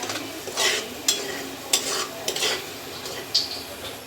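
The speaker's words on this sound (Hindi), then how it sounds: "ये देखिए सूजी भी अच्छे से भूनी जा रही है।" Semolina roasts in ghee for suji halwa, stirred with a spoon that scrapes and clinks against the pan at irregular intervals over a soft, faint sizzle.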